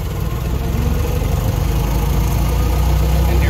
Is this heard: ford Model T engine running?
yes